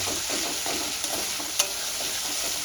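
Garlic masala is stir-fried in a pan, with a constant close sizzle of oil and soft repeated scrapes of a spatula, plus one sharper clink near the end.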